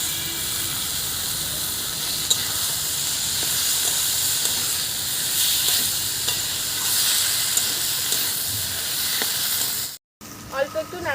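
Taro stems fry in a pan while being stirred, a steady loud sizzle and hiss with occasional scraping underneath, running continuously before a brief cutout near the end, with no voice heard.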